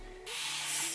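A spray bottle mists water onto freshly washed, unconditioned hair in a sustained close hiss that starts a quarter second in and holds steady to the end.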